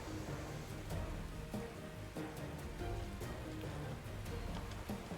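Steady rain hisses across the whole clip in a Pokémon battle weather effect, with a dense even patter and faint scattered drop ticks, no voices.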